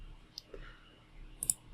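A single keyboard key, the Enter key, is pressed with a soft, faint click, followed by a couple of other light taps in a quiet room.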